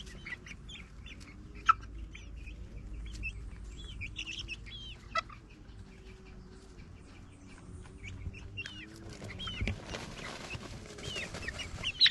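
Puerto Rican chickens cluck and chatter softly in a coop, with scattered short calls and a few sharp squawks over a low, continuous murmur, growing busier toward the end.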